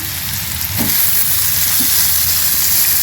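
Puréed tomatoes hit a hot frying pan for a Tamil-style dried shrimp (kooni karuvadu) thokku, giving a steady, close broadband sizzle with a brief louder burst of spitting as they go in.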